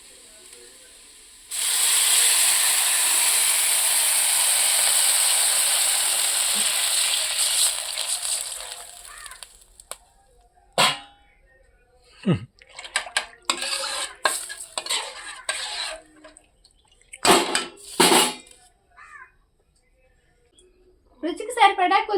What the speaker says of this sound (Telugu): ఉప్మా రవ్వకి సరిపడా నీళ్ళైతే పోస్తున్నా